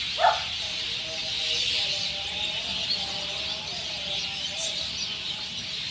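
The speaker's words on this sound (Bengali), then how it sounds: "দেখেন পাখি, লাখ লাখ পাখি, দেখেন" A dense flock of countless birds chirps continuously at dusk, a thick, distant wash of high twittering with a brief closer call at the start and no talk.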